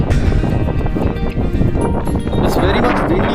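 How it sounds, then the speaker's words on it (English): Strong wind on a hilltop fort at Gudibande: loud, gusty wind buffets the microphone with rumbling, uneven roars throughout, while someone talks over it. "It's very much windy over here."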